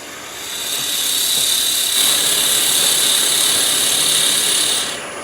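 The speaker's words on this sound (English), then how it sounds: "So if I drill about 12 mil, that should do it for us." Drilling a 12 mm hole on a wood lathe, a steady loud whirring and rasping grind that swells in, holds for several seconds and eases off at the end, with no talk.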